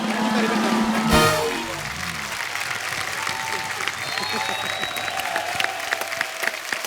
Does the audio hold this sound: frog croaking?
no